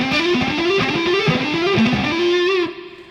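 Distorted electric guitar playing a fast repeating phrase of three picked notes followed by legato notes, close and steady, ending on a sustained ringing note.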